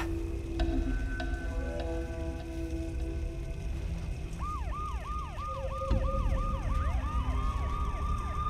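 Wailing sirens rise and fall in rapid repeating sweeps over steady rain and traffic rumble, joined by a second siren tone, fairly close and loud.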